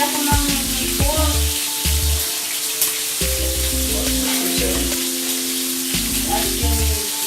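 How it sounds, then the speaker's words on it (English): Pork sizzles and spatters steadily in a hot pan as it is cooked Filipino style, with repeated clanks of a utensil against the pan over the frying. "She is frying some pork."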